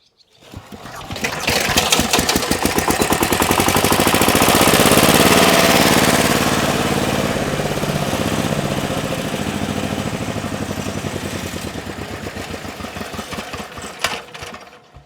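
A heavy walk-behind tractor engine is hand-cranked without a decompressor and catches, settling into a loud, steady, rapid mechanical chug that runs close and continuous throughout, with no talk over it.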